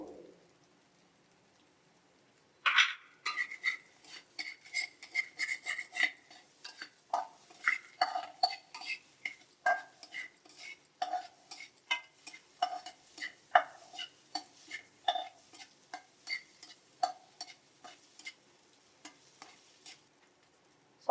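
Egg fried rice stirred in a pan over a low flame, beginning with a quiet lull, then a rapid patter of spatula scrapes and clinks with faint sizzling, close and without talk.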